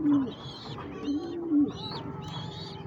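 Pet pigeons cooing after returning home at night to their loft, several soft throaty coos repeating close by, with faint chirps in the background.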